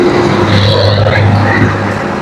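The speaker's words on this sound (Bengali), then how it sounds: "কঠিন বাতাস রে ভাই।" Heavy wind buffets loudly and without a break while a Yamaha MT15 motorcycle rides on the Dhaka–Mawa expressway near the Padma Bridge, with the engine's drone underneath.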